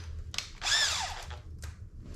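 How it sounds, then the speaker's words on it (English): A power drill spins a 13/16 paddle bit into wood for a floating shelf, giving one short, close whine that rises and then falls in pitch, with quieter brief motor bursts before and after. "I'm going to start out with a 13/16 paddle bit, and I'm going to drill down about 5 inches"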